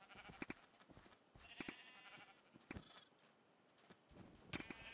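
Sheep in the video game Minecraft bleat several times in quick succession, short wavering cries over a faint background of game sounds, fairly close and clear with no talking.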